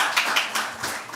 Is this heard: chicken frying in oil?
no